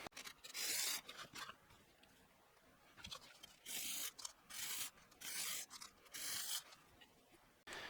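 Repeated bursts of rough abrasive sanding on a guitar nut, close and fairly loud, each stroke lasting about half a second with short pauses between.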